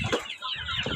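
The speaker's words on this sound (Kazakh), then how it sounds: "Кучинский хораздар бар." Kuchinsky roosters cluck in short, nasal bursts at close range in a poultry yard, a quick series of calls packed into about a second with faint background noise.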